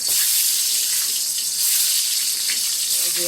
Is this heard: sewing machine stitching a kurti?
no